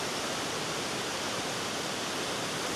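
Clear river water rushing steadily past a riverside campsite deck at a waterfall campsite in Ulu Kinta area, a continuous broadband flow with no pauses, fairly close and alone without voices.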